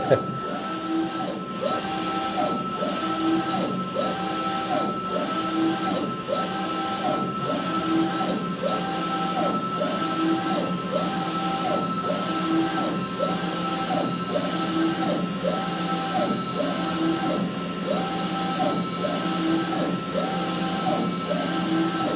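A DTF printer for T-shirt printing runs steadily, its print head shuttling back and forth in a regular repeating rhythm over a constant mechanical hum, close and continuous.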